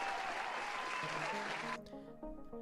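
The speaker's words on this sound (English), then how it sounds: "A round of applause to everyone that sent in something so far." A round of applause from an audience at a Dungeons & Dragons homebrew challenge show, dense clapping for nearly two seconds before cutting off abruptly into music.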